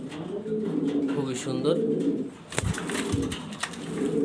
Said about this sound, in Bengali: ঝর্ণা শার্টিং কবুতর এগুলো